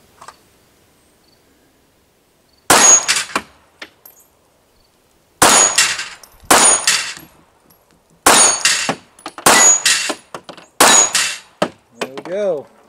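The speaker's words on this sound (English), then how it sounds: "And let's get some big steel up. Alrighty, 380 Glock Model 42." Shots from a Glock Model 42 in .380 ring out in quick bursts of two or three, each followed by a sharp metallic clang off big steel targets, loud and close, with a brief voice near the end.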